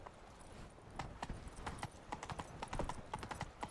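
Horse hooves clip-clop at a quick pace in the Witcher 3: Blood and Wine video game, a rapid faint rhythm of hoof falls over a low ambient bed.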